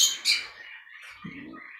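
A flock of budgerigars chirps and tweets in short bright bursts, a few close calls followed by softer overlapping chatter from the group.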